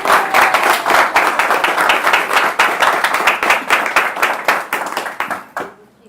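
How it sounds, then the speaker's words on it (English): An audience at a personal development and goal-setting talk claps loudly and steadily for several seconds, a dense continuous burst of applause that stops abruptly near the end. "Can we have a louder clap?"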